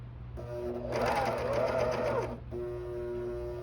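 A coverstitch machine with a binder attachment runs steadily, sewing folded binding onto fabric, its motor hum swelling louder in the middle, then dropping to a lighter steady drone, close and alone.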